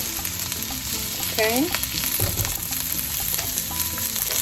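Minced garlic and chopped onion frying in a pan, a steady close sizzle with bursts of stirring; a voice speaks one brief word.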